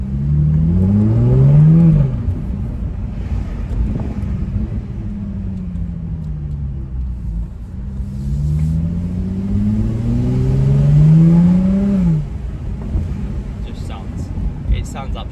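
A 2018 Jaguar F-Type 3.0 V6 R-Dynamic P380 AWD convertible accelerates hard, its engine and exhaust rising through the gears in two strong pulls with clear upshifts, loud and close with wind rush, and a person speaking over it.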